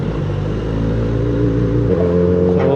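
A Kawasaki Z900RS motorcycle fitted with a red aftermarket exhaust and 61mm mid-pipe idles with a steady, loud, close rumble, the engine note shifting slightly near the end, with no voices.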